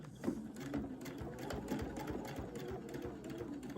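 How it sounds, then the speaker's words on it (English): Sewing machine stitching through a bucket hat while reverse-sewing a seam, a steady close mechanical whir with rapid rhythmic needle ticks running throughout, no talking. "I'm going to sew back by just flipping my ruler over."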